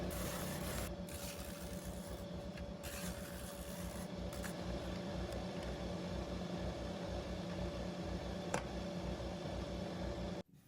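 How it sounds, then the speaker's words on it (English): A power sander smooths the edges and curves of wooden table saw insert parts, a continuous loud whirring with rough rasping from the wood, running steadily for about ten seconds before stopping. "A little touch up on the sander brings the edges down smooth and fairs the curves."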